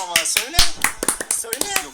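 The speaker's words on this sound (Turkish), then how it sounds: "Bir arkadaş bir, bir alkış, bir alkış" Audience clapping, a string of sharp, uneven claps spread through the moment and mixed with a loud voice talking over them.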